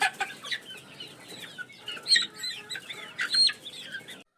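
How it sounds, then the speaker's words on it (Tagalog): Game farm chickens peck at a banana held in a hand, clucking and chattering in a close, busy cluster of short calls with a soft flutter of wings. "Kailangang hawakan ko ang saging para hindi nila madala kapag tinuka nila ito."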